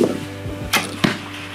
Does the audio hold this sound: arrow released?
yes